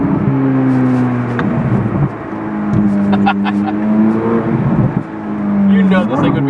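A 2023 Corvette Z06 revving hard with sharp exhaust pops and crackles, loud and close from inside the car, engine note rising and falling across several revs while people talk excitedly over it.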